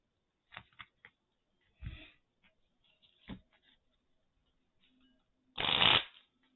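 Playing cards being shuffled for a pick-a-pile tarot reading, several short riffles and snaps building to one longer, louder riffle near the end, close and quiet with no talking.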